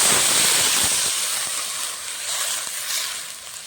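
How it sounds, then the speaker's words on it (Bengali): Water pours into a hot pan of fried spices, potatoes and flat beans for a Bengali rui fish curry, giving a loud, steady broadband sizzle and hiss that eases slightly over a few seconds. "মশলার সঙ্গে আলু সিমটা কষানো হয়ে গেছে, এখন জল দিয়ে দেবো"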